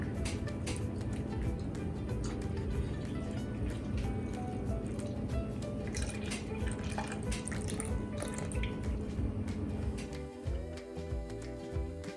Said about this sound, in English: Slowly pour in 2 cups of milk.